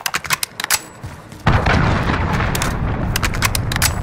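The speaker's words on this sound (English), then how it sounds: "Enemy cruise missile incoming!" A cruise missile strike in the shooter game Call of Duty: Modern Warfare hits suddenly after a short lull of sparse pops, a loud close blast that rolls into a dense sustained roar of crackling debris and distant gunfire.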